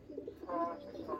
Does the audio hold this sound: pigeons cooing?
yes